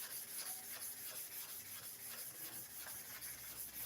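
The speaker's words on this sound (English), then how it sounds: "Zigzag movement in sharpening of the clipper blade." A clipper blade rubbed in a side-to-side zigzag on a sharpening stone, making a faint, steady rasping scrape in rhythmic back-and-forth strokes, close and quiet.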